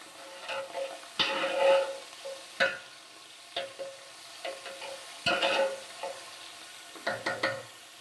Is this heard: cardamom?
yes